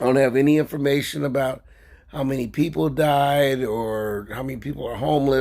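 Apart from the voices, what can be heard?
No distinct noise like a dog, phone or traffic.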